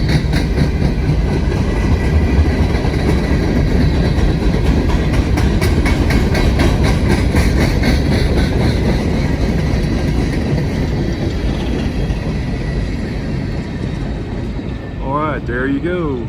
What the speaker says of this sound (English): Empty coal train going into Queensgate